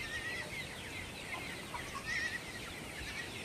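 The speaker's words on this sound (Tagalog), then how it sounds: "Ito po yung manok natin na Rhode Island, kino-crossbreed ko sa native at saka may halong hulo." Rhode Island chickens crossbred with native birds cluck faintly and intermittently against a steady farmyard background hiss while they wait for feed.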